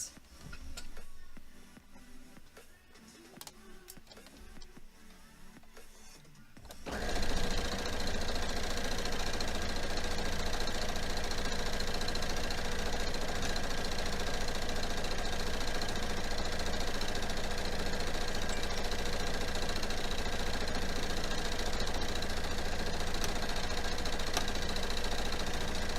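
A sewing machine stitches a quilt in a steady, continuous mechanical whir with fast ticking that runs loud and unbroken for about twenty seconds after a quieter opening stretch.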